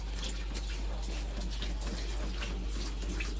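Shower water streams steadily onto a golden retriever named Mabel sitting during a grooming bath, a constant broadband hiss with faint splashing and no voices.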